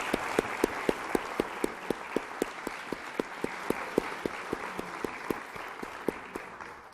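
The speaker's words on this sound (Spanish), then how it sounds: "Yo pediría incluso un aplauso." An audience at a UNAM lecture session applauds in steady, evenly spaced claps that keep a regular rhythm, fairly faint and distant, with no talk over them.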